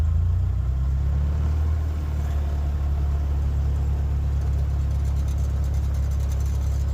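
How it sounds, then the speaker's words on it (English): Vehicle engine labouring uphill on a climb, a steady loud low drone with rising revs and no speech. "Let's put some revs on."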